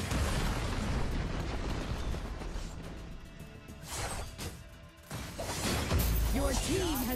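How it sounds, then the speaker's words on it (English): Arena of Valor battle sounds crash and burst in a dense, loud jumble as a tower is destroyed, with a game announcer's voice heard near the end. "Your team has destroyed a tower."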